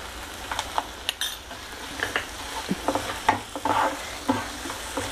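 Snake gourd halwa stirred with dry fruits in a pan, a soft sizzle under repeated close spoon scrapes and light clinks against the metal.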